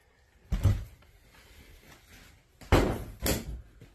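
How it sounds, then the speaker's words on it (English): A door in an abandoned, moldy hoarder house is opened: a heavy thump, a pause, then two more loud knocks and rattles close by, with no voices. "Let me open the door real quick."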